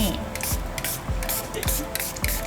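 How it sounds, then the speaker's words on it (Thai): An alcohol spray is spritzed into a soap mould before pouring handmade papaya soap, producing a run of short, close hissing puffs in a loose, regular rhythm. "ใช้สเปรย์แอลกอฮอล์ สเปรย์ลงไปก่อนนะคะ"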